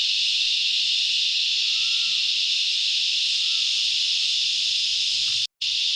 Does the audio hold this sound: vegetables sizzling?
no